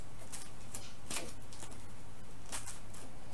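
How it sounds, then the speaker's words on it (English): A deck of Pokemon trading cards is shuffled by hand, giving soft papery riffles and flicks in short bursts over a faint steady hum, close and quiet, with no talking. "My favorite way to shuffle a deck is the classic way."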